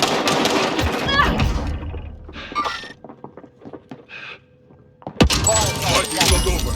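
Gunfire in the battle royale game Call of Duty Warzone Rebirth: loud bursts of shots at the start and again after a brief lull, with quieter clatter and scattered sounds in the gap and game voice lines over the action.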